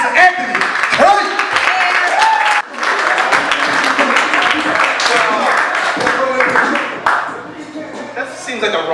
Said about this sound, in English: I want y'all to start clapping your hands right now